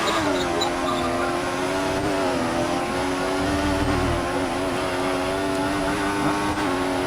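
A racing car engine drones loud and constant in a German race, holding a steady high-pitched note that barely changes over several seconds.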